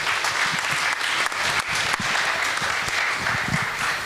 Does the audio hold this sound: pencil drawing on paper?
no